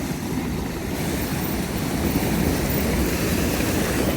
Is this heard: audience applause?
no